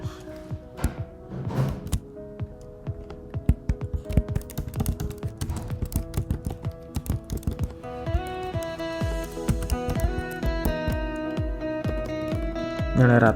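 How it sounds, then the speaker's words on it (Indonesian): Close, steady typing of Python code on a computer keyboard, rapid irregular key clicks and thumps over some background music, with no talk. "lalu kita ketik print dalam kurung kosong untuk spasi ke bawah"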